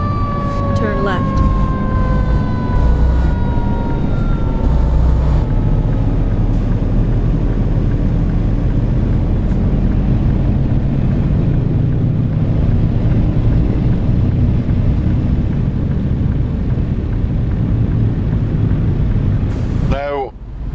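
Engine roar of a truck in American Truck Simulator while cruising in Louisiana, a steady loud drone with passing traffic and siren-like tones sweeping past early on, the rumble continuing throughout.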